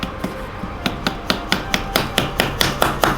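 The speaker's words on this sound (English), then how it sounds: "you might need to use a hammer just to gently" Light hammer taps in a steady series, about a dozen sharp metallic knocks spaced evenly, close by with no talking, while fitting a BMW K100 motorcycle front wheel.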